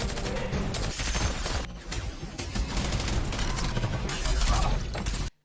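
Film fight scene with dense, continuous bursts of gunfire and clattering mechanical action over a loud, busy soundtrack, rapid shots tumbling over one another for several seconds before cutting off abruptly.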